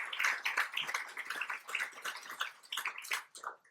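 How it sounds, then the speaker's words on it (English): A crowd at the ribbon-cutting ceremony for the Dyer Crisis Stabilization Center applauds steadily, with dense, continuous clapping heard from the audience that holds for the whole stretch. "So give yourself a round of applause."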